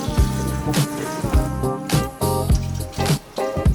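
Rainwater drips and drains off a pergola gutter, with close, irregular splashing drips and runoff sounding in quick succession.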